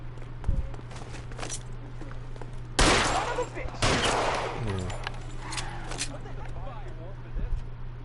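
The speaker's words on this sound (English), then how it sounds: "He's shooting at me." Gunfire erupts in a tense confrontation, several loud sharp shots and bursts close by, mixed with hurried footsteps, a steady hum and voices shouting.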